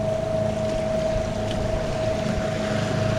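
Electric outboard motor pushing a small boat at top speed, a steady loud whine with a constant pitched tone over continuous water and wind rush, no talking.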